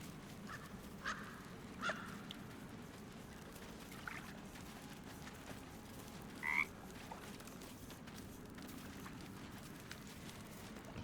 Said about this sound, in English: The frog hisses and ribbits.